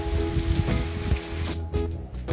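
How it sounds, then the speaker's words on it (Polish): Heavy rain pours steadily in the Dominican Republic at seven in the morning, a dense, continuous hiss and patter close by, with no voices. "A dzisiaj prognoza była, że bezchmurne niebo, a proszę bardzo, pada."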